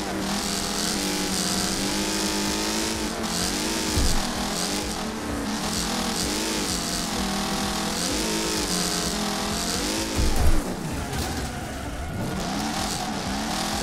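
A race car engine in the racing game Wreckfest, roaring steadily at full throttle with the pitch rising and dipping through gear changes and cornering, plus a couple of brief thumps.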